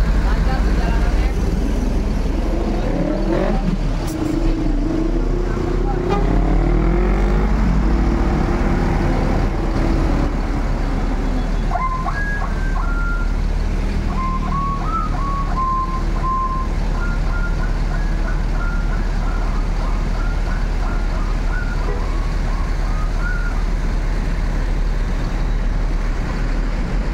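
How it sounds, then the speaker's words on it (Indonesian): An MPM intercity coach idles with a low engine rumble while reversing beeps repeat in a steady rhythm, voices talking over the vehicle noise nearby. "Satu unit bus MPM siap diberangkatkan menuju Ranah Minang teman-teman."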